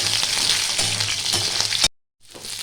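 Potatoes and papaya sizzle steadily in a hot pan, a dense continuous frying hiss that cuts out abruptly near the end before faintly returning.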